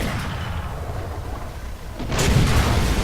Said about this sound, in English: He ammo racked us. That's an ammo rack for sure.